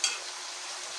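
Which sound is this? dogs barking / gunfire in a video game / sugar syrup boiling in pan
sugar syrup boiling in pan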